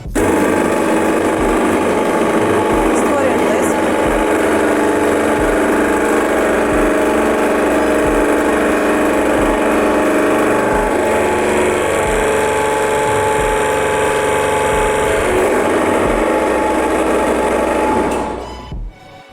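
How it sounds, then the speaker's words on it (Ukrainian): Oil press pump running steadily, a loud continuous mechanical drone with a fast rhythmic pulsing throughout, close up, then cutting off near the end. "Включаємо знову наш насос."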